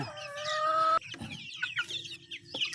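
A flock of hungry chicks chirps in a commotion, with clucking hens and a rising crow-like call near the start. The peeps are close and overlap in a busy stream.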